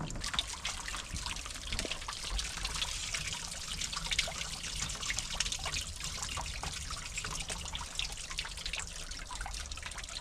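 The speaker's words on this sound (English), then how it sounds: "plastic tub down here to catch all the water and the scale deposits, and we're just going to let this drain out" Water from an RV tank drains steadily into a plastic tub, a continuous close splashing trickle with small drips that lasts throughout and has no talk over it.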